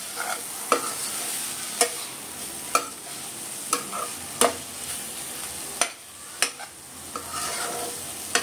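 Dried shrimp (javla) cook in a pan with a steady soft sizzle, broken by sharp, regular scraping knocks of a spoon stirring roughly once a second, close and fairly quiet.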